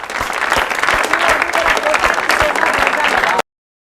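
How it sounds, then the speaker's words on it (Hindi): A studio audience applauds steadily and loudly for a guest on a comedy show, dense continuous clapping that stops abruptly near the end. "आप लोग प्लीज़ तालियां ज़रा पुरजोर बजाएं"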